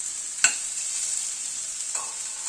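Vegetables, radish and eggplant, fry with salt and turmeric in a pan, giving a steady close sizzle with a sharp scrape of stirring near the start and a softer one toward the end.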